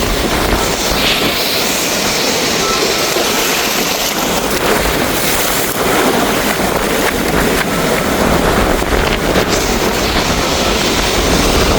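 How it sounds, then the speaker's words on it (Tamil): Rough, churning sea waves break along the Kankesanthurai coast, making a loud, continuous roar of surf and wind that stays dense and unbroken throughout. "தூரத்தில் எல்லாம் கொந்தளிச்சு கொண்டிருக்கும் கடல்"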